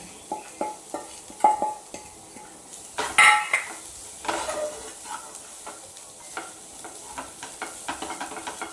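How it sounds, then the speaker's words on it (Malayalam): A spoon stirs and scrapes cooked, shredded chicken cutlet filling with salt, coriander leaves and curry leaves in a pan, with repeated clinks and scrapes over a soft sizzle and no talking. "ആവശ്യത്തിനുള്ള ഉപ്പ് കൂടി ചേർത്ത് നന്നായിട്ടൊന്ന് യോജിപ്പിച്ചെടുക്കാം"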